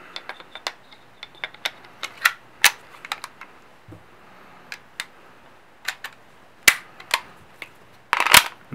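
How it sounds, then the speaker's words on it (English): Metal clicks, snaps and sliding clacks of a CZ P01 compact pistol being reassembled with a snap cap, scattered sharp transients at close range with a harder cluster at the end, no talking. "I'm going to put my gun back together."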